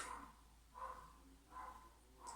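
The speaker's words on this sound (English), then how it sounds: "There's a dog barking outside." A dog barks outdoors at a distance, three or four evenly spaced barks that sound faint and muffled over a low, steady background hum.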